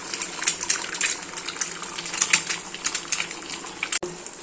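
An egg fries without onion in a hot pan, giving a steady bright sizzle and crackle with scattered spits and pops throughout, close and moderately loud.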